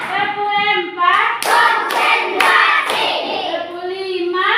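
Four sharp hand claps land about half a second apart during a classroom lesson on fractions, under a voice that keeps talking throughout.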